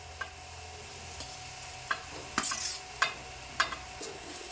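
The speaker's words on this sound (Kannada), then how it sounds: "ಈಗ ಇದನ್ನ ತಿರ್ಗಾಡ್ಕೋಬೇಕು ನೋಡ್ರಿ" Leftover roti mixture being stirred as it fries in a pan, with a low steady sizzle and several distinct scraping clinks of the spoon against the pan.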